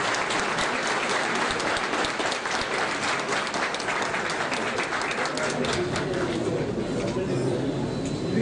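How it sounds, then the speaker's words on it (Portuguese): Dense, steady applause from an audience fills a municipal chamber during a solemn ceremony marking Itaperuna's 130th anniversary of emancipation, loud and sustained throughout with no break. "Os aplausos."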